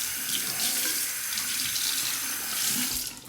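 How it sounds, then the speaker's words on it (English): Water pours steadily from a bathroom tap into a sink for a straight-razor rinse during a shave, a close, continuous hiss and splash with no voices. "Rinse off"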